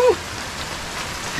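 Steady heavy rain hisses evenly throughout over farm fields, a dense wash of noise with no pauses, following a short faint tone at the start.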